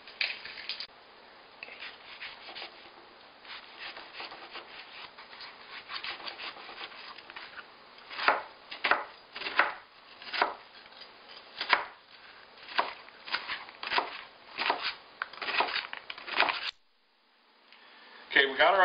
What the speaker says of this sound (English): We're going to get them chopped up fairly small